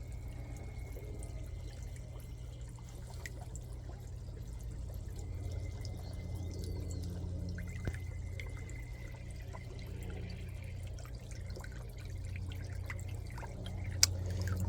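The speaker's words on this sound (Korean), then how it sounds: "여기도 이 분수대인데 지금 태양광으로 돌아가는데" A small solar-powered garden fountain trickles and drips into the water below, a soft, continuous splashing under a low steady hum, with no talking.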